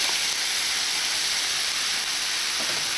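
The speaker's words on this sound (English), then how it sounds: "So the frying pan is nice and hot, and I'm just going to add the chicken to it." Chicken pieces tipped into a hot frying pan for a Mayflower-style chicken curry give a steady, close sizzling hiss that fills the whole stretch without a break, with no talk over it.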